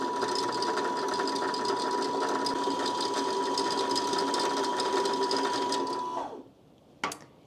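Sewing machine winds thread onto a bobbin with a loud, steady whirring hum that runs for about six seconds, then cuts off as the thread stopper halts it, followed by a single sharp click.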